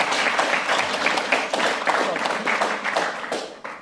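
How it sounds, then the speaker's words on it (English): An audience at a monarchy versus republic debate applauds Georgina with a sustained round of dense, moderately loud clapping that tapers off at the end. "Can we have a round of applause for Georgina?"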